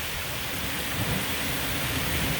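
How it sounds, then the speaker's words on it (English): Rain pours down at the start of a brief, intense thunderstorm with extreme winds, a dense, loud, continuous hiss over a low rumble, with no voices. "Well, here comes the rain."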